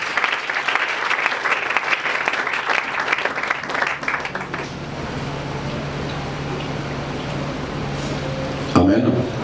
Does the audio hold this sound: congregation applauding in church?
yes